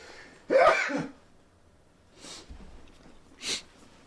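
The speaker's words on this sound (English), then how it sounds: "And I gotta sneeze." A single sharp sneeze bursts out close by, followed by a couple of softer breathy sniffs and exhales.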